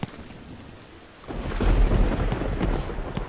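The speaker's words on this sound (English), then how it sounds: "I do suppose we have lightning and stuff in the background" Thunder from a lightning storm in a SpongeBob video game rolls in after a quiet start, a deep rumbling swell mixed with rain-like hiss that stays loud to the end.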